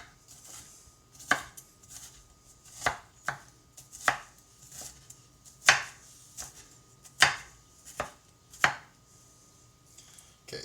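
Knife chopping garlic on a cutting board for a sausage skillet, about nine sharp, clear chops at an uneven, unhurried pace, close up and with no talking.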